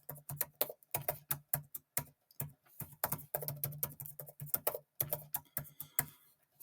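Keys on a computer keyboard click in a quick, uneven patter as a password is typed, close and crisp, with brief pauses between bursts and no voices.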